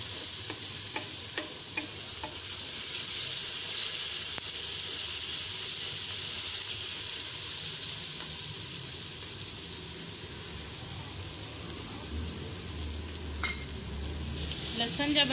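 Garlic frying in a pan for shahi tadka daal, a steady loud sizzle with hiss, broken by occasional scrapes and clinks of stirring.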